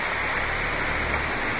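Madakaripura waterfall roars in a steady, dense rush of falling water, a continuous broadband wash without pauses or voices.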